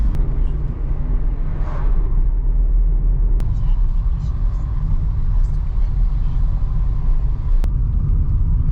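Car driving along a narrow coastal road on the island of Corfu, Greece, with a steady low engine and road rumble continuing throughout, faint sleepy voices softly underneath.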